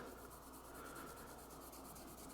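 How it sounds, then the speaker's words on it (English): Rust is rubbed off a carbon steel Opinel knife blade with a finger and polish, a continuous close back-and-forth rubbing with a fast pulsing texture, fairly quiet and without talk. "we're just kind of polishing, just rubbing back and forth"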